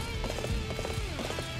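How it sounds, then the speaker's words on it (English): Horse hooves clip-clopping in Dynasty Warriors 8 Empires, a steady rhythmic trot of hoofbeats over a dense layer of battle noise and game music, with no voices. "Get my horse. Where's my horse? There's my horse."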